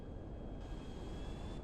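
A small Learjet passing overhead in Grand Theft Auto V, a steady broad jet engine roar with a faint high whine, continuous and fairly distant, alone without talk.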